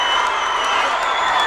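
A high school boys basketball crowd at the end of a close Sacred Heart versus USJ game roars and cheers in a dense, continuous wash of voices and applause, loud and sustained.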